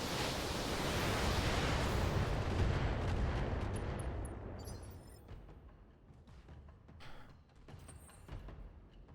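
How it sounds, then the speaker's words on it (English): Heavy weapons barrage from the Behemoth mech in the BattleTech game, a loud roaring wall of overlapping blasts for several seconds that thins out into scattered distant impacts and crackles. "And now Behemoth unleashes a barrage."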